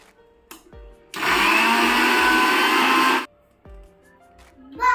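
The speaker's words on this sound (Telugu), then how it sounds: "ఇప్పుడు దీంట్లో కరివేపాకును కూడా వేసుకోవాలి ఇప్పుడు దీన్ని కూడా పౌడర్లా చేసుకోవాలి" A mixer grinder whirs loudly for about two seconds, grinding curry leaves into powder, with quiet clinks and handling before and after the burst.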